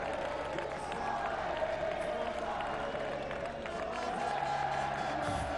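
Crowd at a MotoGP podium ceremony at Misano applauding and cheering, a steady, fairly distant wash of clapping and voices that continues throughout.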